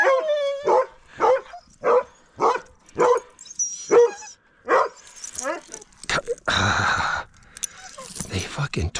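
Huskies being walked give a run of sharp, evenly spaced barks and yips, close and loud. Someone talks to them between and over the barks, and there is a burst of rustling and jangling near the end.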